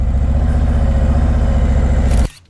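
Harley-Davidson Ultra Limited with an M8 engine idling, a loud, steady, even low hum with a rapid regular pulse, close up, cutting off abruptly near the end.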